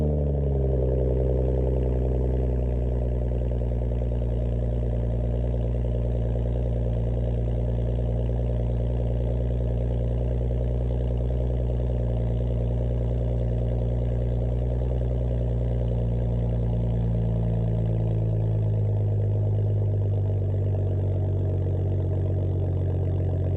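A BMW 335xi E90 with the N55 engine, muffler delete and quad tips, settles into a steady warm-start idle, its low exhaust drone rumbling evenly and close for the whole stretch without any voices.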